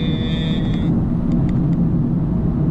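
A Ktuner-tuned 2017 Honda Civic EX-T with a six-speed manual cruises fast in sixth gear at half throttle, giving a steady, dense low road and engine rumble from inside the cabin with no break.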